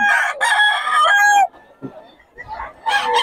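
A bullstag rooster crows loudly and close by at a market, one long harmonic crow followed by short clucks and noises, then the start of another crow.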